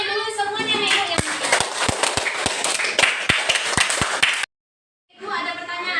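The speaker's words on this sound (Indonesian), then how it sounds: "tepuk tangannya dulu semuanya" A classroom group of schoolchildren claps their hands in scattered, uneven sharp claps mixed with overlapping voices. The sound cuts to silence for a moment before talking resumes.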